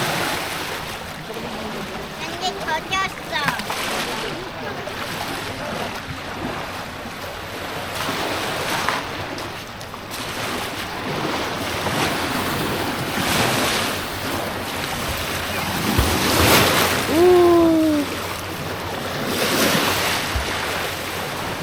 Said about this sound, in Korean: 호수에 파도가 치네.